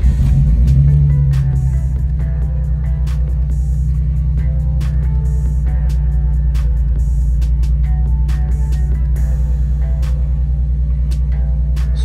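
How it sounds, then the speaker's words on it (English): A Nissan 350Z engine fires up with a short rising burst, then settles into a loud, steady low idle close by, humming evenly for the rest of the stretch with no voices. "So let's go ahead and start this up."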